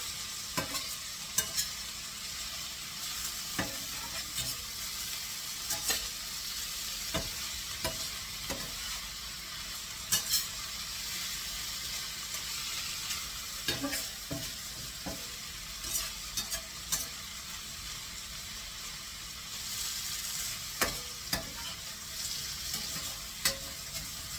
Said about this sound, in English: They do want us to stir this around while it's cooking.